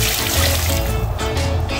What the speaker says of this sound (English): Pour some water.